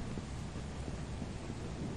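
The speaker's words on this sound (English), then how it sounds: "Oh, it's raining." Steady rain with a low rumble of thunder in the horror video game Lethal Company, a continuous, even wash of noise with no voices.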